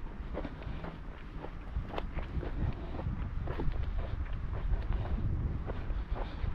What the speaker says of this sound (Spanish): Se levantó un poco viento.